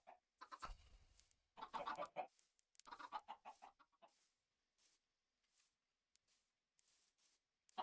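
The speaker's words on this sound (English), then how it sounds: "Hi, chicken." A chicken in a video game clucks in short repeated bursts, a run of quick clucks early on and then scattered, fainter clucks with silent gaps, heard alone without talk.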